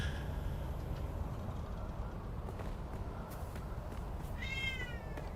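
A cat meows in the Dune Awakening video game, a faint short meow rising near the end over steady low background rumble and noise.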